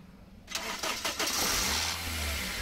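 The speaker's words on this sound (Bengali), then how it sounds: "আমি গাড়িটা স্টার্ট করব" A Toyota HiAce Super GL van cranks briefly, catches and settles into a steady, smooth idle, heard up close with no talking.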